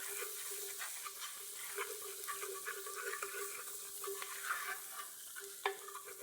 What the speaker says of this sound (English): We're going to swirl the butter and the garlic in the drippings and release the bison or buffalo drippings